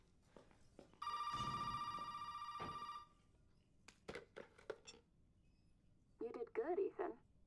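A video game telephone rings with a sustained electronic trill lasting about two seconds, followed by faint footsteps and clicks, then a brief burst of game voice dialogue near the end.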